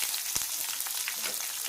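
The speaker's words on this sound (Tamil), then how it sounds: "எல்லாம் வதக்கிட்டு வெங்காயம் சேர்த்துக்கலாம்." Small-leaf spinach (siru keerai) and onion sauté in a pan, giving a close, continuous sizzle and crackle with a few sharper pops and no talk.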